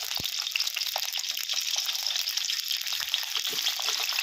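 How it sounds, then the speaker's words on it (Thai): Cabbage frying in hot oil, a steady bright sizzle with scattered crackles and pops, constant and close throughout with no talking. "ใส่ กะหล่ำปีลงไปทอด"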